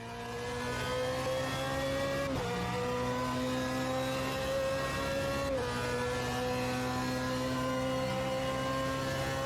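A race car engine on throttle in Automobilista 2 at Le Mans gives a loud, steady, close-up high-pitched drone, with two quick upshift dips in pitch partway through. No voices are heard.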